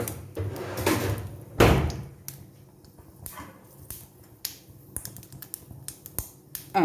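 Sharp irregular pops and crackles, like mustard seeds bursting in hot oil, some louder bursts early and sparse pops later.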